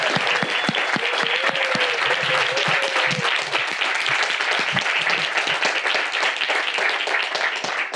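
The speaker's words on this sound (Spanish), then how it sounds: "Y por sobre todo quiero que aplaudan a Pedro." An audience at a talk claps loudly and continuously for eight seconds, with dense individual hand claps close by, and a brief voice briefly rises over the applause near the start.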